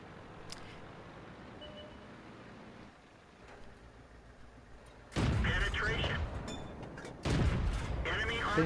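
Tank cannon fire in World of Tanks, played in a Matilda: after a low rumbling battle ambience, two loud, close booming shots break in, each followed by a sustained roaring crash.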